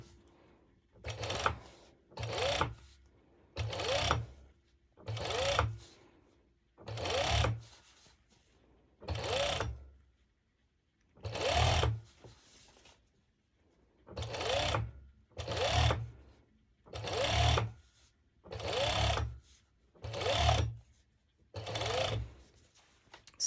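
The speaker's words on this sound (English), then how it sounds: "I'm going to my serger" Serger overlocker stitching an underbust band onto a sporty top, in about a dozen close, loud bursts of fast rattling machine whir separated by short pauses.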